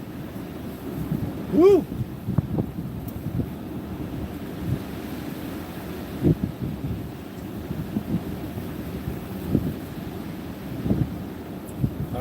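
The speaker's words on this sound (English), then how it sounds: "There's some good wind right there." Gusty wind blowing during a Pacific Northwest snowfall, rumbling low and buffeting the microphone in uneven surges, with a person whooping briefly early on.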